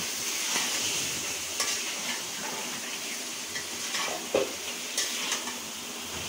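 Chicken and potato pieces fry in a pan with a soft, steady sizzling hiss and a few light stirring knocks, fairly quiet and close.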